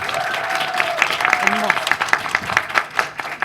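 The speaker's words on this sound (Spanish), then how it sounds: "Un aplauso a los ponentes de nuevo" Audience applause at a university undergraduate literature colloquium, a spread of scattered claps rising under a speaking voice and continuing beside it.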